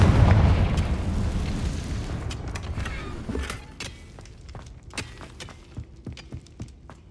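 A magical Confringo fire spell bursts in a booming explosion in a video game, loud and rumbling at first, then fading into scattered crackles and small pops.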